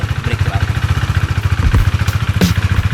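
A KTM Duke 390 single-cylinder motorcycle idles just after its engine oil has been changed. A loud, close, rhythmic thumping holds steady, with a few brief clanks and knocks mixed in.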